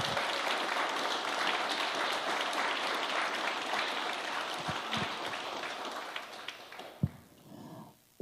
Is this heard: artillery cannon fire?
no